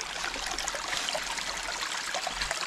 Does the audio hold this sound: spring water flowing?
yes